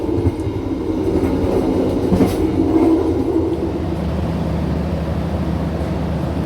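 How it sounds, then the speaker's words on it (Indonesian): The Gajah Wong economy-class train runs between Yogyakarta and Jakarta in Indonesia with a loud, continuous rumble from inside the carriage, heavy low rolling noise and a brief swell in the middle. "perjalanan kereta api Gajah Wong telah tiba di stasiun Bumi Ayu"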